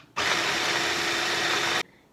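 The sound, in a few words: food processor blending crispy pork into chicharrones paste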